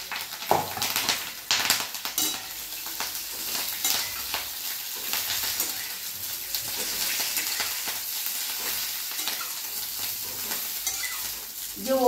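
Green chillies warming in a small amount of oil in a pan, with a steady low sizzle and occasional stirring scrapes and clinks of a utensil throughout.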